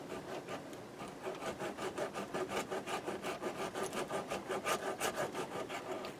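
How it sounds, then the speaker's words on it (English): A hand file rasps in quick, regular strokes across the high edges of a persimmon wood golf club head, close and fairly quiet, with no talking. "file any high edges off"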